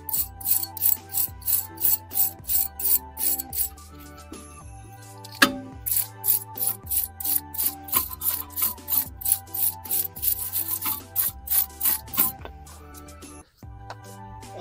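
Brushing and scrubbing inside the front brake caliper area of a Hyundai Santa Fe during a pad and disc change, a rapid run of close, rhythmic scraping strokes with brief pauses.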